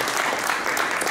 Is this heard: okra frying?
no